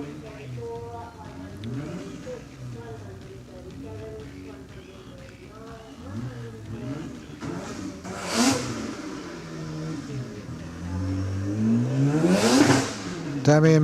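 A Mazda RX-7 at a lakeside hillclimb revs and climbs through rising and falling engine sweeps, swelling louder toward the end, while a commentator talks over it.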